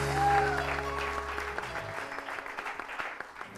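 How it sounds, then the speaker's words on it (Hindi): A studio audience on a TV morning show breaks into applause, steady clapping over a fading musical tone that drops away midway, leaving the claps alone and moderately close. "हसन भाई के लिए बहुत सारी तालियां जी।"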